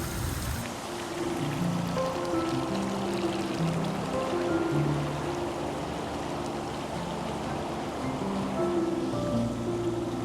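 Water rushes steadily through a backyard stream with a small waterfall, a continuous close, even babble and splash with no voices.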